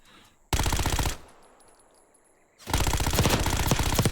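Automatic gunfire from a Black Ops 6 ranked gunfight, two loud sustained bursts of rapid shots separated by a quieter gap, close and alone without talk.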